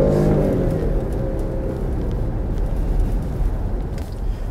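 A 2020 Jeep Grand Cherokee Limited X with a 3.6-liter, 295-horsepower V6 accelerating, heard as a loud, steady engine drone with a deep rumble that holds throughout, with no talking.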